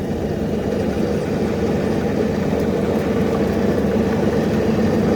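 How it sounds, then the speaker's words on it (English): Steady, loud mechanical whir and low rumble from the differential of a Troy-Bilt ride-on mower converted from gas to a 60-volt electric drive with a 3000-watt brushless motor, droning continuously without pause. "That sound you're hearing is from the differential."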